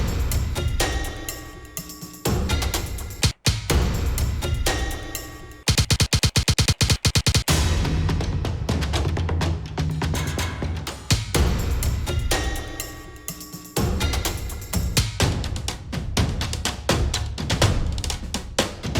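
A looped sample from a VST instrument sounds continuously while a key stays held on a MIDI controller, giving a dense, sustained full-range tone with a brief rhythmic stuttering section partway through.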